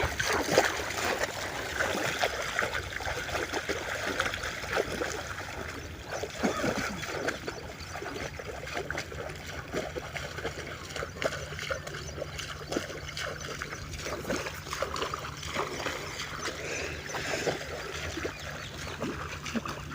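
Water gushing from a motor pump into a container being filled, a continuous rushing, splashing flow with a steady low motor drone throughout.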